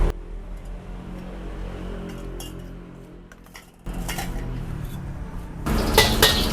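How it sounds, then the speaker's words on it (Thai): Black pepper paste stir-fried in a pan for a spicy noodle dish: a sizzling bed of frying noise with metal spatula scrapes and clanks, growing louder and busier toward the end, close with no talk. "ต่อไปก็เป็นการผัดพริกไทยดำกันเลยนะครับ"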